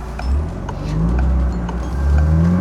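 A 2025 Morgan Plus Four sports car accelerates along a curvy road, its engine note rising and falling in a couple of swells, heard from inside the car with steady road rumble.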